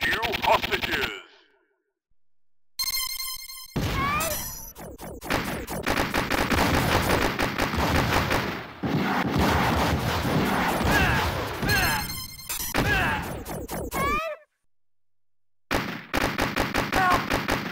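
Rapid automatic gunfire and explosions from the arcade shooter Operation Thunderbolt, loud continuous bursts with brief silent gaps between scenes and game voice shouts.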